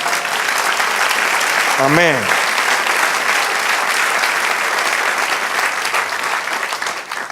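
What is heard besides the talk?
congregation applause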